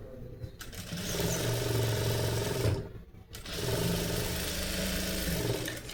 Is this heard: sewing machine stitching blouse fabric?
yes